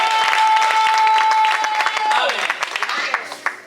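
A church congregation in Paris breaks into applause during a worship service: a dense wash of clapping, loud and close, under a sustained organ-like tone and voices that fade toward the end.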